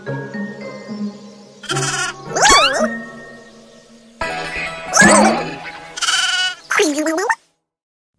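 Several loud, wavering sheep bleats in quick succession, with short gaps between calls and a brief silence near the end; game-like and close.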